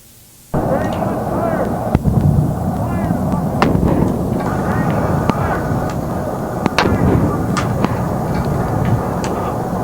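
An explosion near laboratory buildings, followed by a sustained loud roar and rumble with sharp cracks and clatters of small rocks and plastic pieces falling back onto nearby structures.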